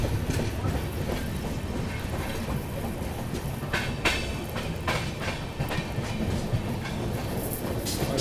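A train running on rails as it arrives at Rangia Junction in Assam, India, giving a steady close rumble with rhythmic clickety-clack of wheels over rail joints.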